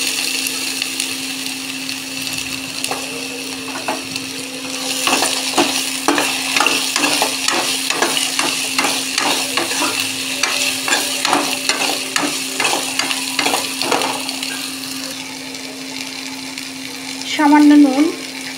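Pumpkin and potato chunks with a little salt fry in fish oil, a steady close sizzle over a constant hum, broken by rhythmic scraping strokes of stirring, with a brief voice near the end.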